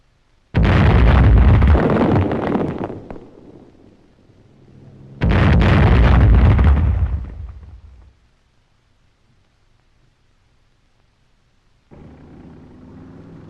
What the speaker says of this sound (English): Again, German mines in the road lend their force to the explosion.